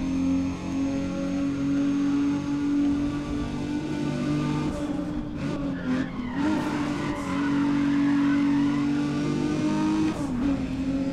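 A race car's engine drones steadily in Need for Speed: ProStreet at Tokyo Dockyard, an underpowered car held flat out, with tire squeal and skidding rising midway and no voices.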